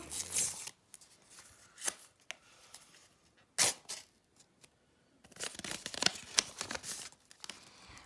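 A paper surprise packet from a Kinder surprise unboxing is torn and crinkled open indoors, in several short, crisp, close bursts of rustling with quiet pauses between them.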